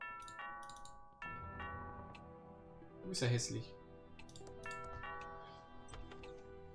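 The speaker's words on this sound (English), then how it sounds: "That sounds like the doorbell." A chiming electronic doorbell rings out in the musical soundscape of the video game Thimbleweed Park, with a voice speaking over it.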